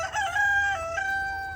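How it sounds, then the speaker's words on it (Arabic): A hungry backyard rooster giving a single drawn-out crow, fairly close and clear, with faint low background noise. "بصوا الفراخ جعانين اهو."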